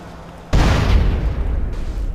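A sudden loud blast from a car explosion in GTA San Andreas follows near silence, then a rumbling roar slowly fades over the next second or so.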